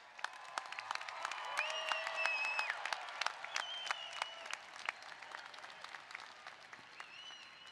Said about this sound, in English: Let's give them another really big round of applause